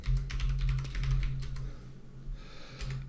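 Someone types on a computer keyboard in quick bursts of close, crisp key clicks, pausing briefly before resuming, over a low background hum.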